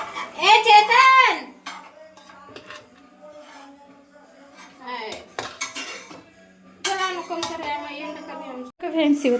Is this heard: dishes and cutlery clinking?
yes